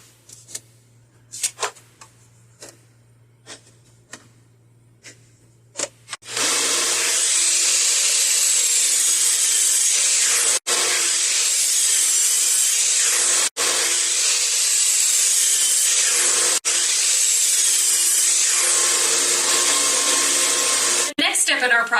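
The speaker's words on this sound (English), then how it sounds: "I'm going to cut a bevel in the boards for the legs wherever the end grain shows." Power saw cutting a bevel into wooden bench board ends for a farmhouse bench, a loud steady whine running continuously for about fifteen seconds with brief dips, after quieter handling clatter at the start.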